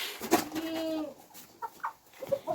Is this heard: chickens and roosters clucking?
yes